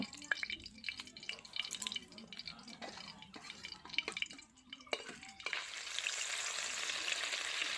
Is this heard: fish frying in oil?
yes